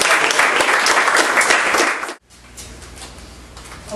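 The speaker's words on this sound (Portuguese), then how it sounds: "as palmas louvam ao Senhor" A church congregation claps loudly together at a Pentecostal revival campaign service, a dense burst of applause lasting about two seconds that cuts off abruptly, leaving a quieter room with faint murmuring afterward.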